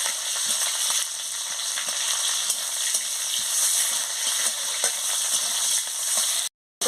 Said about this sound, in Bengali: দিয়ে ভালো করে মশলাটার সঙ্গে ভেজে নিচ্ছি।